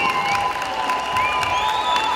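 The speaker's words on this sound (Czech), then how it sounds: "Takže velký potlesk." An audience claps at a show, a short, steady patter of applause with a faint cheer mixed in, heard from a moderate distance.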